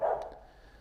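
A single short dog bark, moderately near, with a faint trailing yip fading quickly into quiet room tone.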